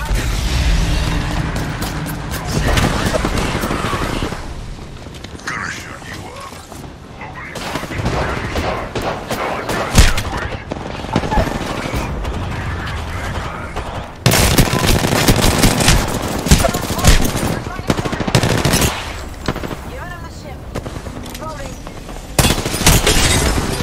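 Sustained gunfire in a video game, loud rapid bursts and machine-gun fusillades with occasional booms filling the whole stretch, with voices at times underneath.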